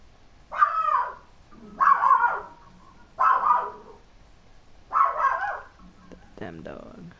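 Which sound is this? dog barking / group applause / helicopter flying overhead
dog barking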